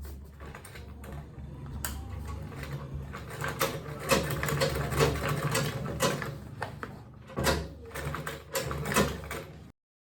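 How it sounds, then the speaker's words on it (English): Sewing machine top stitching an Ankara and leather bag, a busy continuous rattling stitch with uneven surges and brief pauses, close and fairly loud, ending abruptly. "I'm just going to top stitch on this"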